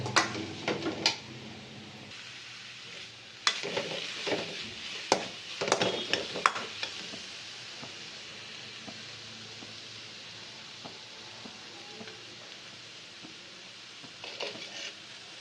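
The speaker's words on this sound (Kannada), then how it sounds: "ತುರಿದಿರುವಂತಹ ಹಸಿ ಕೊಬ್ಬರಿ ಹಾಕಿ ಚೆನ್ನಾಗಿ ಮಿಕ್ಸ್ ಮಾಡ್ಕೋಬೇಕು" A spoon scrapes and clinks against a pan while grated fresh coconut is stirred into beetroot palya over low flame, a cluster of quick metallic knocks early, then quiet with a soft hiss and a few late taps.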